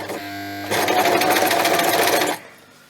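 A sewing machine stitching fabric: a brief softer motor run, then a louder, fast, steady stitching whir for about a second and a half that stops abruptly, close and clear with no talking.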